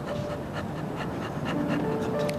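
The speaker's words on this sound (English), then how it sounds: "you see 2 growling 100-pound Rottweilers stalking you" Two large 100-pound Rottweilers make rough, panting dog sounds up close, a continuous harsh breathy rasp with uneven pulses throughout the short stretch and no talking over it.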